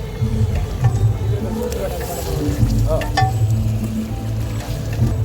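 Curry leaves crackle and sizzle as they hit pork frying in a pan, with loud continuous frying, stirring scrapes and occasional clinks throughout.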